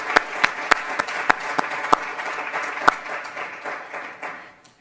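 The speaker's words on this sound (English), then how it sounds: "So I think that deserves a round of applause" An audience at a community foundation announcement in Atlanta claps loudly in a sustained round of applause, with a few sharp individual claps standing out before it fades.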